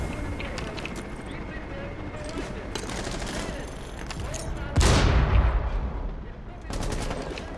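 Bursts of automatic gunfire crackle through a Rainbow Six Siege match, with a loud close blast midway and rapid shots returning near the end over a busy game background.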